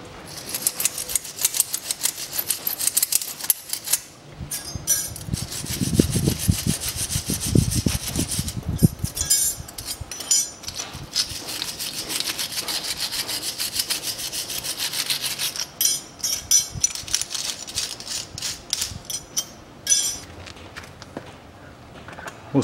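Brake caliper springs on a 2008 Citroen C-Crosser 2.4 are scrubbed clean with close, rapid, rasping brushing strokes that continue in uneven bursts throughout.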